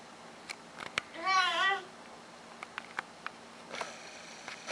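A house cat gives a single rising-and-falling meow, close and clear, amid a quiet room with small taps and clicks and someone speaking softly.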